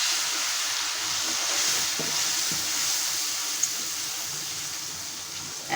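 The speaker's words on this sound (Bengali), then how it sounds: "মশলাটা পুড়ে না যায় এই জন্য একটু সামান্য জল দিয়ে দিচ্ছি।" A little water hits a spice paste frying in a pan, producing a steady loud sizzle that continues evenly, with faint stirring clicks underneath.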